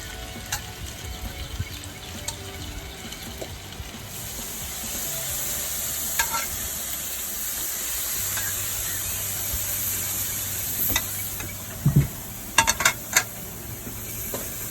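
A steak sizzles on a hot grill in a steady crackling hiss, with occasional sharper pops and clicks of tongs or utensils nearby.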